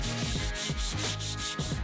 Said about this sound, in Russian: И финальная шлифовка мелкой наждачкой.